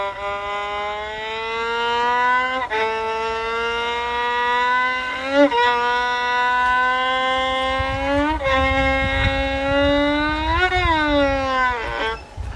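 A voice imitates an ambulance siren, a sustained wailing tone that sweeps up and down in pitch in repeated cycles, loud and close, with no other sounds.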